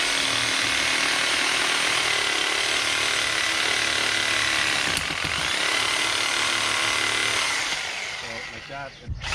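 A power saw cuts a fallen tree into sections, running loud and continuous close up with a steady buzzing whine that tapers off near the end.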